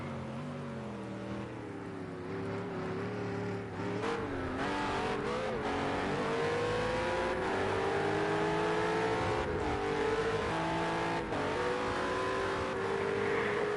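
Several GT3 race cars in a racing video game at Zolder at night, a loud continuous engine roar with gliding pitch as the cars rev and shift, layered engines overlapping, no speech.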